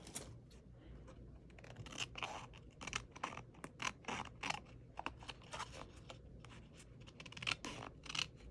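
Scissors trimming paper around a glued scrapbook page at a craft desk, soft crisp snips and scratchy paper rustles, close but quiet, no talking.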